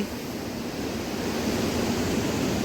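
Steady broadband wash of ocean waves at Harnai beach on the Konkan coast, a continuous near surf roar with no distinct breaks and no voices.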